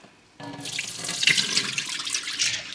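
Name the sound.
rinsing soaked peas and pouring off cloudy water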